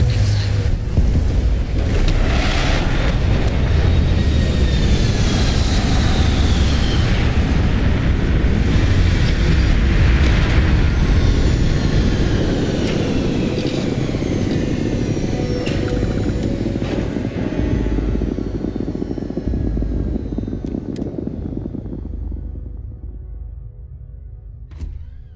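A spaceship lands in the sci-fi game Starfield, a loud deep rumbling roar with rushing thrust and mechanical whirs that builds, holds, then gradually fades toward quiet near the end.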